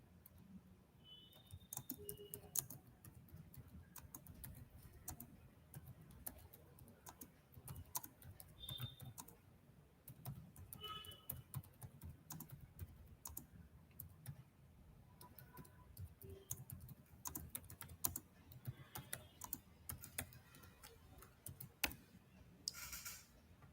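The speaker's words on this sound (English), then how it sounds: "I'll be typing" Quick irregular clicks of fingers typing on a computer keyboard, steady and close but fairly quiet, running for the whole stretch over a low background hum.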